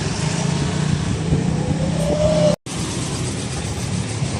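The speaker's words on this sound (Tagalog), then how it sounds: "Now there's a Nature Spring truck." A Nature Spring water delivery truck passes on a road in the Philippines, a steady engine rumble with a rising whine that builds and then carries on, loud and close, with no voices.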